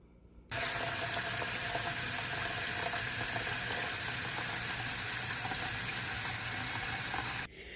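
Water gushes steadily into a bucket for several seconds, starting and stopping abruptly.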